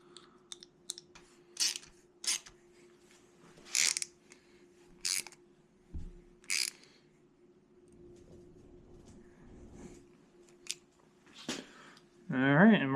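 A bolt is threaded by hand into a 1000hp LS engine build, heard as scattered light metallic clicks and ticks spread across the span over a low steady hum, with a brief sharper rattle near the end.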